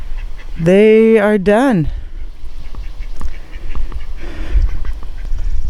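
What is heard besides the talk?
domestic ducks quacking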